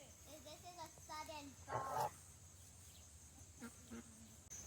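Geese on a homestead honk and quack in a loose series of calls, one louder burst in the middle, with people talking nearby.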